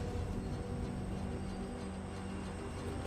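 A train rumbles past in the factory-building game Foundry, a steady broadband roar with low mechanical hum that holds evenly at close range throughout, with no voices over it.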